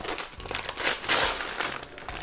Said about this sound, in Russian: И последний давай большой пакет открывай.